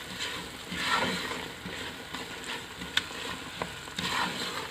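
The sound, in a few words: stirring doodh ka halwa with pistachios and almonds in pan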